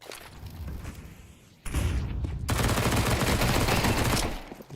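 Desert Eagle pistol fire and other gunshots sound during a competitive Counter-Strike match: a muffled shot, then a sudden loud close burst that turns into sustained, rapid firing for several seconds.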